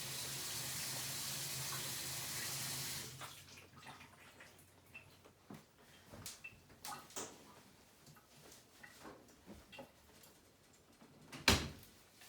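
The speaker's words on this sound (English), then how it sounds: "I'm gonna rinse my hands real quick" A faucet runs steadily for about three seconds while hands are rinsed under it, then stops, leaving quiet handling noises, soft knocks and a sharp clunk near the end.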